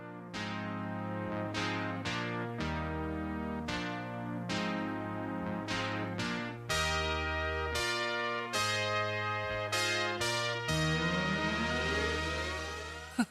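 The cheesy synth keyboard intro of a 1983 song plays as a bright, bell-like riff of repeated chords over a steady bass, alone without voices, building into a denser passage near the end.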